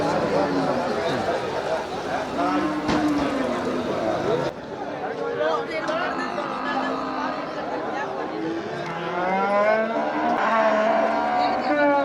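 Cattle lowing repeatedly at a busy outdoor cattle market in Melapalayam, deep moos rising and falling amid steady crowd chatter and background bustle, with people talking throughout.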